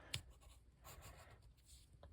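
A pencil scratches across paper in short, quiet strokes, one sharper scrape near the start and then soft intermittent sketching close by.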